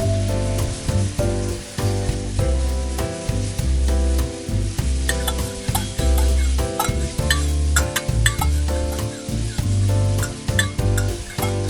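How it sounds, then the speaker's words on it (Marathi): Masala paste is fried with golden-browned onions for a Malvani-style prawn curry. A constant oily sizzle runs with stirring scrapes, partly masked by loud background music. "त्यात आता वाटप टाकू वाटप छान परतून घेऊ"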